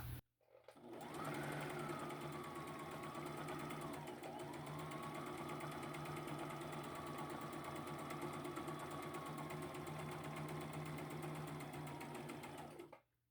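A home sewing machine runs a gathering stitch in one long, even whirr lasting about twelve seconds, starting and stopping cleanly, close up and quiet with no voices.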